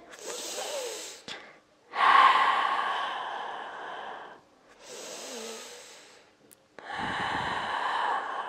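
Long, audible exhalations during a seated yoga pose, several slow breaths rising and fading with short pauses between them, close and fairly quiet with no talking.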